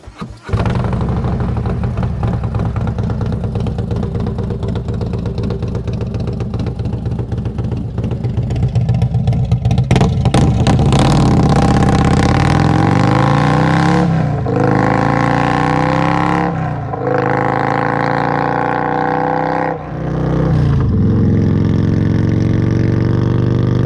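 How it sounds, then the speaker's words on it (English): A Harley-Davidson motorcycle engine fitted with a Stage II cam runs loud and close, starting with a lumpy, choppy idle and then revving up in several swells before settling back, with no talking. "here's the after sound of what it sounds like with the cam installed"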